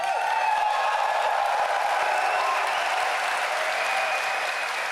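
Dense, steady applause from a large crowd at the Gamescom gaming convention, sustained and loud throughout with a broad wash of clapping and no break.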